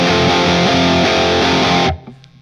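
Heavily distorted electric guitar chords strummed in a quick rhythm, loud and dense, then abruptly stopping into near silence.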